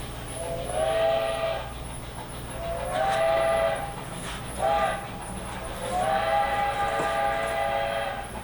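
A small On3-scale Denver & Rio Grande Western model train hums up a 4% grade with a low motor drone, while repeated whistle toots sound in several bursts.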